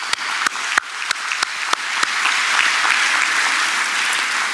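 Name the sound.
audience applause at a closing ceremony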